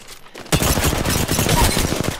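Rapid hip-fire gunshots in a first-person shooter, a dense burst of loud, close shots following a brief quiet moment.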